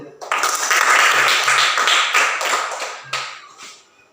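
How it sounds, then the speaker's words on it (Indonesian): A classroom of primary school pupils claps together for a group, a short loud burst of many hands with a few rhythmic accents and brief voices mixed in, fading after about three seconds. "Kita tepuk tangan untuk kelompok 3 dulu."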